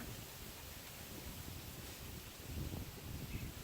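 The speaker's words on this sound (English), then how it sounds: "It's getting a bit windy." Wind blowing through trees outdoors, a faint continuous rushing hiss that swells slightly toward the end.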